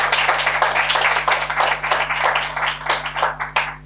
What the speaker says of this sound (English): So you can give the panel as well a round of applause.